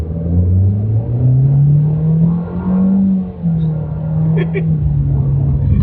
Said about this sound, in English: Let's put the acceleration here to the test